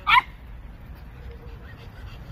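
A dog gives one short, sharp bark at the start, then only quiet room noise remains.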